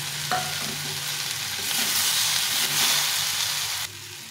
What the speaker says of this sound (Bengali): এই সবজিটা ভাজা ভাজা হয়ে গেছে